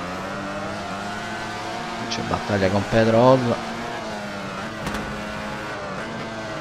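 Motorcycle engine in the racing game MotoGP 14, a constant hum under Italian commentary, with a short burst of revving and rising pitch partway through.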